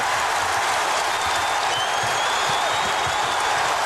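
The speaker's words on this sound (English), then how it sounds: "The crowd responding to the Dikembe Mutombo" A packed basketball arena crowd at the 2001 NBA Finals roars and applauds after a Dikembe Mutombo block, a loud, dense, sustained wash of cheering with no gaps.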